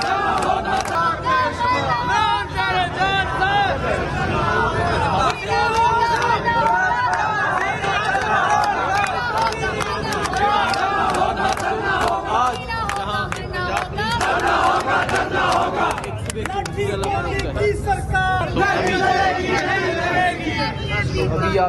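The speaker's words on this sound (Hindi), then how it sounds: "सुनवाइए जरा, भीड़ कितनी आक्रोशित है।" Large, angry crowd of protesters in Rawalpindi, a dense roar of shouting and chanting voices that stays loud and continuous throughout.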